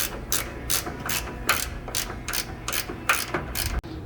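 A ratchet tightening a collar onto a cylinder while working on a 1990s Nissan Sentra build, a run of quick, evenly spaced metallic clicks close up, with a sharp knock near the end.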